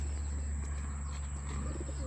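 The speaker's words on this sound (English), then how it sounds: "Birds." Pigeons coo softly beside a coffee shop in Phatthalung, Thailand, a low murmuring under a constant high electrical whine and steady background hum.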